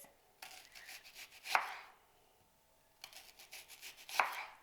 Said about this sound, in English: So we're gonna cut the onions